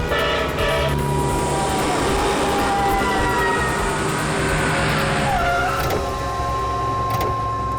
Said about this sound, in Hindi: ये सीआईडी की जीप पीछे क्यों जा रही है?